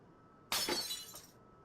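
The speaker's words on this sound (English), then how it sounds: "The sound of glass shattering rents through the air as soon as her hold on it loosens" Glass shatters after slipping from someone's grip: a sudden loud crash followed by bright tinkling fragments that settle and fade within about a second, with no voices.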